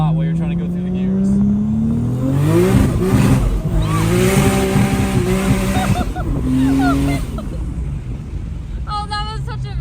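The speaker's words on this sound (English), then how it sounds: "it's got a very quick limiter, but it also just bangs off of it a lot while you're trying to go through the gears" Supercharged car accelerating hard through the gears, engine revs climbing and repeatedly banging off a quick rev limiter in loud stuttering bursts, close by, with a brief pause between shifts.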